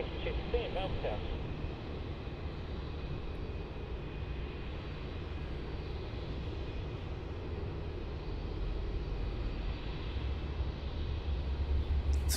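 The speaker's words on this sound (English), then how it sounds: "Landing there on runway 16 is Velocity 314." A Velocity airliner arriving from Brisbane lands on runway 16 at Melbourne Airport, a distant, steady engine roar with low rumble heard from afar, running throughout.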